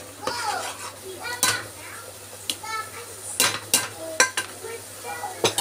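Spoon stirring masala through snake gourd (potlakaya) curry in a pan, scraping in short irregular strokes close by, with faint sizzling and intermittent knocks against the pot.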